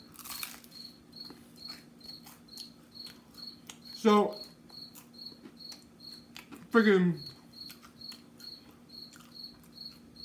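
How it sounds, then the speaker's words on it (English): An indoor cricket chirps in a steady, regular rhythm of short, high pulses that carry through the whole stretch. A voice speaks briefly twice over the chirping. "Everybody's with me right now with this damn cricket."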